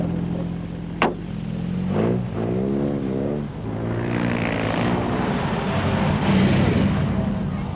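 A rally car engine revs up and pulls away on country lanes in North Lancashire or Cumbria, pitch climbing through several gear changes before settling into a loud, steady roar.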